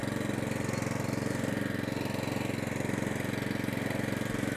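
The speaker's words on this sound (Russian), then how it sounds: "хондовский мотор, конечно, работает чумовой" A Honda engine drives a Caima flail mower mulcher, idling with a steady, rapid mechanical chug that holds at an even, fairly quiet level throughout, with no talking.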